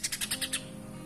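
A caged green leafbird (cucak ijo) going through molt gives a quick series of six sharp chirps, close and clear, then falls quiet.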